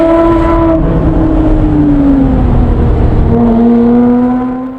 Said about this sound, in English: getting the car sound to fade in and out